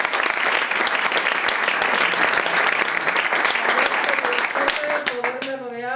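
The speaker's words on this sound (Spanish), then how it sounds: "un aplauso para ellos" An audience at a Spanish storytelling event applauds in a dense, continuous burst of clapping that holds steady for several seconds and tapers off at the end as a voice begins.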